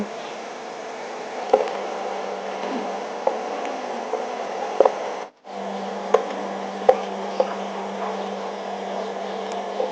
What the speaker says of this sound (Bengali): ব্রাউন কালার করে সুন্দর করে লাল করে ভেজে নেব